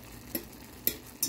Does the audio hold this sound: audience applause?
no